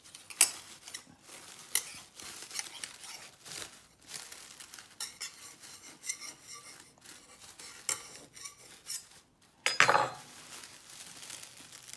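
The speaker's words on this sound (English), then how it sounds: "I'm going to run a knife around the edge" Knife scraped around the rim of a metal springform pan holding a no-bake tiramisu, giving close, irregular metallic clinks and scrapes with one sharper clatter near the end, with no talk.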